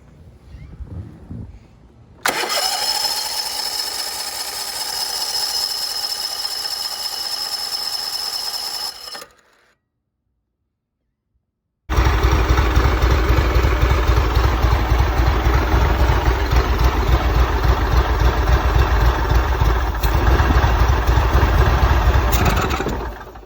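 Exmark Radius riding mower engine, a 2019 model just after carburetor cleaning, runs loudly for several seconds, cuts out into silence, then starts again and idles steadily and close.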